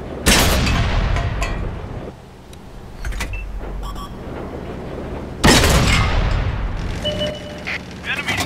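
A Renault FT tank gun fires in World of Tanks, two loud sharp booms with a long rumbling tail, the first near the start and the second midway, amid in-game radio voice callouts.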